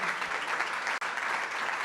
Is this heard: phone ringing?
no